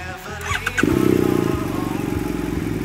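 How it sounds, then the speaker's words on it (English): A BMW F800R motorcycle engine cranks briefly and catches, then settles into a steady, close, throbbing idle. "Okay, so I'll start the bike up."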